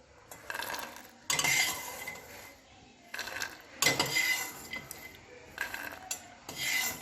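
Fried fox nuts (makhana) scooped from a pan of ghee onto a plate, heard as bursts of scraping and rattling utensil strokes against metal, separated by short pauses, close up with no talk.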